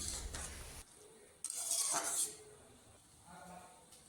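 Chopped boiled eggs stirred into egg tadka in a pan, with scraping and clinking of a spatula against metal in short bursts and a soft sizzle underneath.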